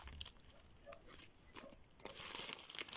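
Thin plastic packet crinkling and rustling as a small sticker slider is pulled out by hand, close and fairly quiet, with brief crackles that grow busier and louder toward the end.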